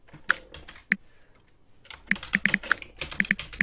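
Typing on a keyboard inside the Doctor Who video game The Lonely Assassins, with sharp, close keystroke clicks in short irregular bursts separated by a brief pause and no voices.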